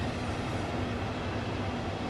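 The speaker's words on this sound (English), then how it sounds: "There's a train coming." In a Train Sim World 2 station scene, a Southeastern Class 465/9 train rumbles toward the platform, a dense, steady low roar filling the short stretch without any voices.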